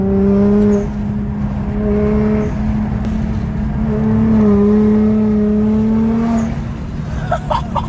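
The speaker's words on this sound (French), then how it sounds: "j'ai entendu le petit bruit de l'admission aussi" Nissan GT-R engine with a throaty intake note, revving up and down in repeated swells, loud and close, ending with a few sharp crackles.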